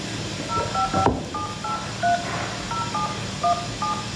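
A rapid string of dialing tones, about a dozen short beeps at an uneven pace, over a faint background hiss.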